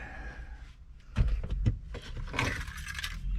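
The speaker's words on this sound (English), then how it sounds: "Let me grab my keys." A bunch of keys is grabbed and jangles up close in a few quick metallic clinking bursts, with handling thumps and rustle in between and no talking.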